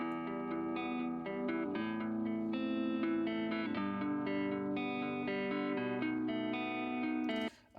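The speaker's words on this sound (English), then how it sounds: "So the original guitar sample had like a first part and second part" Sampled guitar phrase with effects and reverb looping as the second section of a dark trap beat, sustained melodic notes playing steadily and fairly loud before cutting off abruptly at the end.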